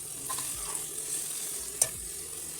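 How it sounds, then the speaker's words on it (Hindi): Boiled pasta tossed and stirred into a pan with ketchup, a steady soft sizzle running throughout with a brief clatter near the end, no talking. "ये जो मैंने पास्ता मैंने बॉयल करके रखा हुआ है इसको भी मैं इसमें ऐड करूँगी।"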